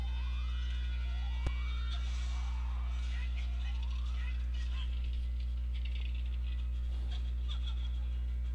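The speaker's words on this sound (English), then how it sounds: "when you hear that siren, it basically means that you got some energy absorbed" A video-game siren in The Legend of Zelda: Ocarina of Time repeats as rising wails that loop several times over a constant low electronic hum, with a sharp click early on.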